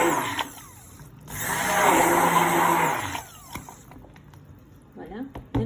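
A blender mixing a cold-process soap mixture with caustic soda whirs loudly for about two seconds, then winds down, with clicks and handling noises around it.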